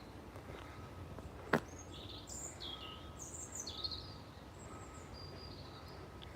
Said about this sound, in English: Sounds like a blackbird to me.